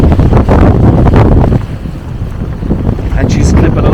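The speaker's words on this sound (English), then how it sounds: "we're sailing again" A sailboat under sail at sea, clipping along at about six knots, with steady broadband wind rush buffeting the microphone and water hiss throughout, loud and close, with a voice talking partway through.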